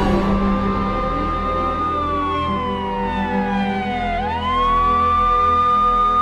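An ambulance siren wails loudly and steadily, its tone gliding slowly downward, then sweeping back up near the end, with no voices over it.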